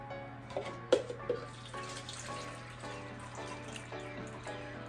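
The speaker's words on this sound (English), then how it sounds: "into which we can drain the juice from our cans" Juice from canned peaches and pineapple drains and trickles into a container, a steady liquid pour broken by a few louder splashes and clinks near the start.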